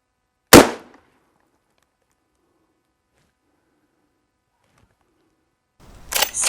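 A .357 Magnum fires a cast hollow-point load: one sharp, loud shot near the start, then a long silence and a second blast building at the very end, with no talk.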